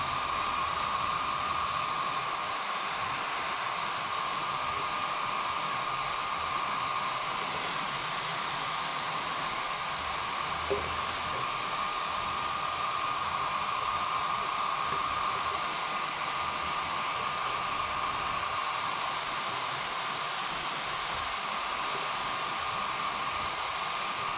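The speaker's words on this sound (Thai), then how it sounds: "เราก็ จะนำไดร์เป่าผมนะคะ" A handheld hair dryer blows hot air onto a sticker on a snack jar, a continuous, steady whooshing hiss with a faint motor whine that runs unbroken and fairly loud throughout, with no voices.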